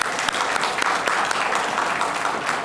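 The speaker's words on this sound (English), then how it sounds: "Please join me to give them a big round of applause." An audience at a trade show claps in sustained, dense applause, loud and even throughout with scattered sharper individual claps.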